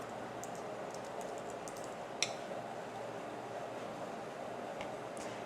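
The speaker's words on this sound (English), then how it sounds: "I'm going to type in my business name." Faint, steady keyboard typing as a business name is entered on a computer, soft scattered keystrokes over a low background hum, with one sharper click partway through.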